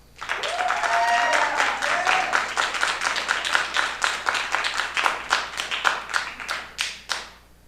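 A debate audience applauds to vote for the winner, a broad burst of clapping that starts under a brief voice, holds steady, then thins into scattered individual claps before stopping.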